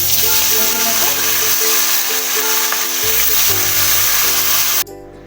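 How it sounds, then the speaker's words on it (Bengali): Tilapia fish pieces frying lightly in oil in a pan, giving a steady, close sizzle with a constant hum running underneath. "জাস্ট একটু হালকা লাল লাল হবে আমি এভাবে তুলে নেব বেশি ভাজলে খেতে খুব স্বাদ হবে না তার কারণে হালকা করে ভাজবো"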